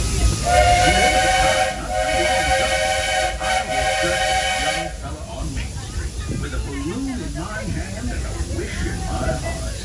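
A steam train's whistle on the Walt Disney World Railroad at Magic Kingdom sounds loudly for several seconds with hissing, then gives way to rumbling train noise and a voice speaking.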